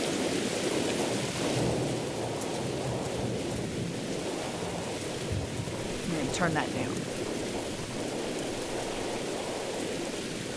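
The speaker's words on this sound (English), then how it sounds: "The storm has picked up, so you'd better run in before you get soaked." Steady heavy rain roars throughout a thunderstorm in the horror game Mothered, with a rumble of thunder and a brief crack near the middle; a person speaks briefly over the downpour.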